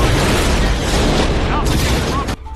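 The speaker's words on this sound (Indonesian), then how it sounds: "hingga terjadilah baku tembak di sana" Gunfight in an action film, with a dense, loud barrage of booming blasts and gunfire that runs continuously before cutting off abruptly near the end.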